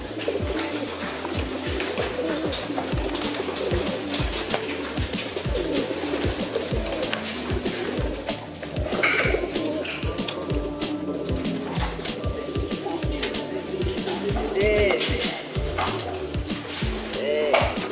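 Pigeons cooing steadily in a pigeon loft on an afternoon, a dense rhythmic chorus of low coos up close, with occasional clinks and knocks from the loft being cleaned.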